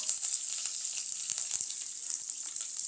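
Shallots and curry leaves frying in hot oil for a traditional paruppu urundai kuzhambu, a bright continuous sizzle with small crackles and occasional stirring taps, steady and moderately quiet.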